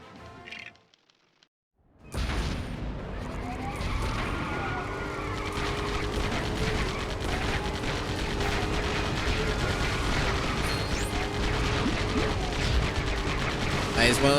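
Bat Tank from the LEGO Batman video game firing: rapid mechanical bursts of gunfire over a steady engine drone, starting abruptly after a short quiet moment and continuing loudly throughout.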